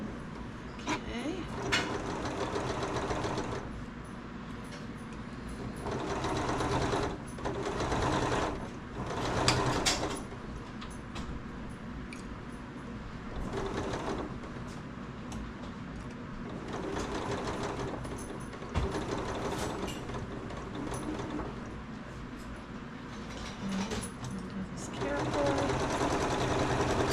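A sewing machine stitches darts on a bodice in bursts of whirring separated by short pauses, close and steady, with a person talking quietly between runs.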